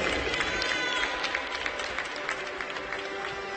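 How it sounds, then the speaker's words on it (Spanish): Spectators at a Spanish national archery championship, during the women's compound team final in Avilés, applaud steadily, with a dense crowd clapping and some background noise throughout. "Fuerte el aplauso, por favor, para Pilar Álvarez, para Nuria Enríquez"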